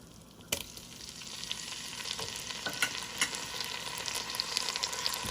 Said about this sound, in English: I'm gonna go in with my green seasoning.